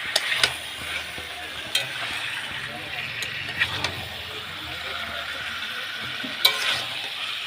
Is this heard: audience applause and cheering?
no